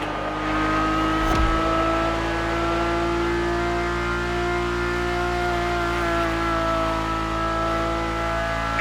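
A Ferrari supercar engine in The Crew Motorfest video game holds a loud, steady, harmonically rich drone heard from inside the cabin, after a brief sharp transient near the start, with no voices.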